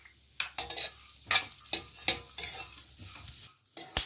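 Watermelon seeds, muskmelon seeds and poppy seeds dry-roast in a kadhai, stirred in a series of sharp, close scraping strokes with a faint rattle of seeds between them.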